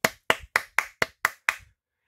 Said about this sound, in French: je félicite Lego en les applaudissant